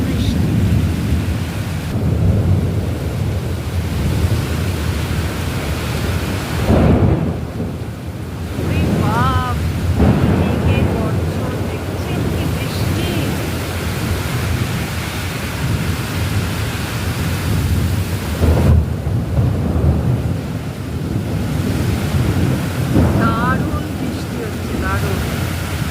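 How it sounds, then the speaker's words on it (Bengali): Heavy rain pours steadily onto a balcony during a storm, a dense loud roar throughout, broken by two deep rumbling thunder crashes, with faint voices here and there. "আমাদের এখানে বেশ অনেকক্ষণ ধরে বৃষ্টি হচ্ছে"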